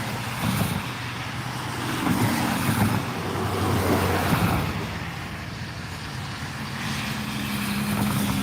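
A pickup truck drives past on a snowy road, its engine and tire noise swelling and fading in a broad, fairly close whoosh that holds for several seconds with a low engine drone underneath.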